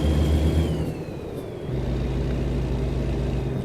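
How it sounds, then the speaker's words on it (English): A heavy lift truck engine revs in American Truck Simulator, a loud low droning rumble that dips and then climbs back in pitch as the revs change, steady with no voices. "Is me over revving too much again?"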